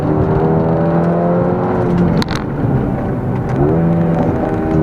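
A Mercedes-AMG A35 hot hatch accelerates around a corner on the Millbrook test track. The engine drone is loud and close, its pitch climbing, with a quick break around a gear change before it pulls again.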